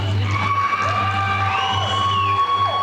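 A crowd at a school FFA and prom event cheers and whoops loudly, a dense continuous roar of voices with rising shouts over a steady hum.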